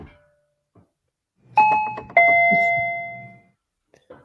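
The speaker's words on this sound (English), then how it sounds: "they're literally hitting the Ring doorbell trying to get in" A Ring video doorbell chimes twice, two bright electronic ding tones ringing out close and clear and fading slowly, with faint rustling before and after.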